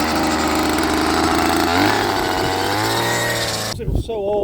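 A small choked petrol engine powering an old homemade bandsaw runs at a steady, loud, close buzz before cutting off abruptly near the end.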